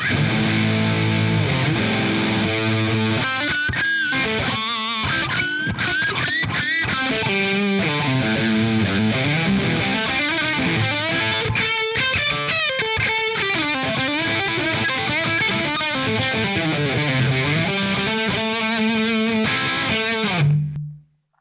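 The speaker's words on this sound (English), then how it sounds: "Get a bit more natural distortion from the amp as well" Heavily distorted electric guitar through a Jed's Peds Obsessive Compulsive clipping distortion pedal and amp plays a continuous, sustained melodic line with bending notes, loud and upfront, before cutting off abruptly at the end.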